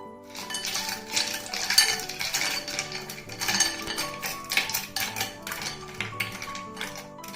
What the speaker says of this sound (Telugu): ఇప్పుడు ఐస్ క్యూబ్స్ వేసుకొని దీన్ని కూడా కలుపుకుందాం